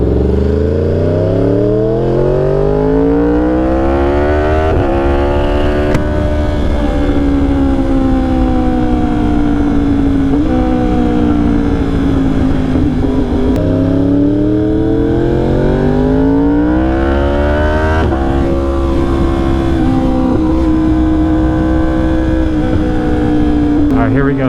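A 2020 Yamaha R1 motorcycle accelerates hard at full volume, its engine note climbing in pitch, dropping at each gear change, then rising again in repeated long sweeps, heard up close.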